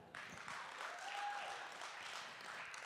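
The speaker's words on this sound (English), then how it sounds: "Round of applause for them." Audience applause at an evening hosted event in a venue, steady broadband clapping from a crowd filling the whole stretch at moderate level, with no clear voices over it.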